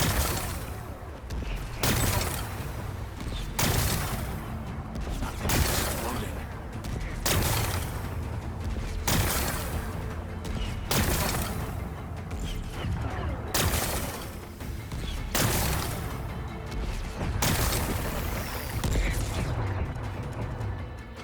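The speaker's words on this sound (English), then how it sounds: "Gotta blast away some rocks so I can explode." Repeated heavy blasts break apart rocks in Horizon Forbidden West, roughly ten loud broadband bursts spaced about two seconds apart, each trailing into rumble over a continuous dense game soundscape.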